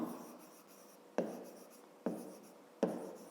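Pen writing digits on paper during a fifth-grade math lesson, heard alone as soft continuous scratching broken by three sharp tapping strokes, close and quiet.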